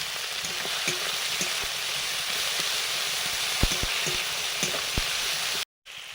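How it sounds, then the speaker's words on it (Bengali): Spice paste with turmeric being fried in a pan, giving a constant dense hiss of frying with occasional spatula taps and stirs, close and even, cutting off briefly just before the end. "হলুদ তিন জল দিয়ে মশলাটা কষে নিচ্ছি"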